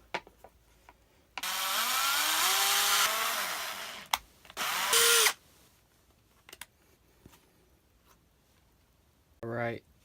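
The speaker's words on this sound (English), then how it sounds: "we're going to take our 1/4 inch drill bit and drill out both the holes." A power drill with a 1/4 inch bit bores out two holes in a homemade bullnose trolling motor rudder, whining loudly for about three seconds, then a second shorter burst, with scattered handling clatter and brief voice between.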